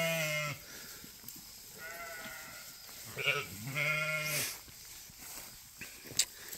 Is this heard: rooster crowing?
no